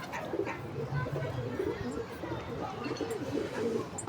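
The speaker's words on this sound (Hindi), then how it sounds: "तो कबूतर गुजर रहे हैं" Pigeons coo and flutter around a rooftop loft, with soft repeated low coos amid outdoor background noise and nearby activity.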